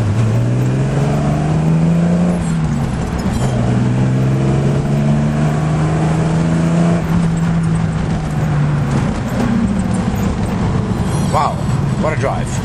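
A stroked 3.1-litre Nissan Fairlady Z engine drones loud and close from inside the moving car, its pitch climbing and falling through the gears, while people talk over it.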